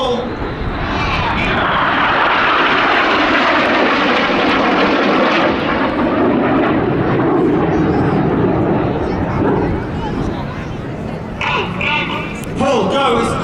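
RAF Red Arrows jets performing aileron rolls at an air show, a loud sustained jet roar swelling and fading as the formation passes, with a commentator talking over it.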